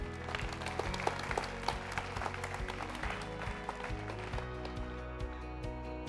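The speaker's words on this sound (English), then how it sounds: "So a round of applause for them" Applause at an annual community meeting, a quiet, distant round of clapping from a gathered crowd blended with a steady tonal background of music or hum.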